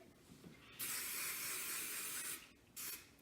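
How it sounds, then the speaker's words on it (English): Hairspray sprayed onto hair while styling beach waves: a long steady hiss of about one and a half seconds, a short pause, then a second brief burst, close and clear. "I go ahead and give a generous spray"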